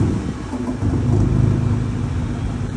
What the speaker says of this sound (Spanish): el vídeo de la primera vez que arranca el GTI con el escape nuevo